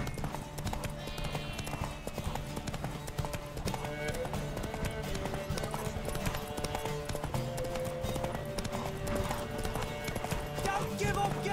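Steady clip-clop of galloping horse hooves in The Witcher 3: Wild Hunt runs throughout, mixed with a busy musical score and game sound effects, with a voice calling out over it.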